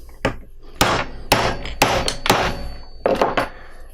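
A hammer drives a rivet through a burr on a fastener in a series of about eight sharp, close metallic blows, spaced evenly at first and then coming in a quicker cluster of three near the end.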